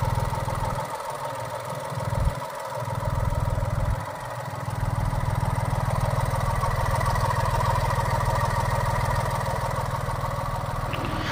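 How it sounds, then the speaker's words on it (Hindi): Turbocharged 1500cc engine of a Mahindra XUV 3XO, front-wheel drive, running steadily with a continuous low hum and some fluctuation in the first few seconds, close and fairly loud, with no voices. "साउंड सुनिए एक बार इंजन का आप।"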